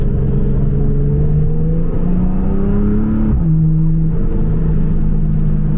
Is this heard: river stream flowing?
no